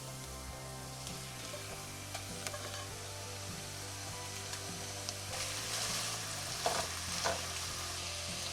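Lean 90-10 ground beef frying with softened onions in a pan gives a quiet, steady sizzle with soft stirring scrapes, under faint background music, growing slightly busier toward the end.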